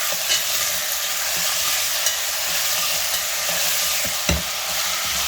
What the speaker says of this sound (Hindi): इसे फुल फ्लेम पर इसी तरह से हमको भूनना है। 2-3 मिनट इस तरह से चला चला कर भूनते रहना है।